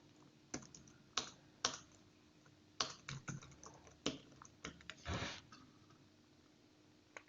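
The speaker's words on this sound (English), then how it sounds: "type in our email addresses" Quiet computer keyboard typing while email addresses are entered, scattered clicky keystrokes in short bursts with pauses between them, close and isolated.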